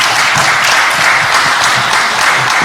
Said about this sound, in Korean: 수고하셨다라고 하는 박수 한 번 더 보내주시면 감사하겠습니다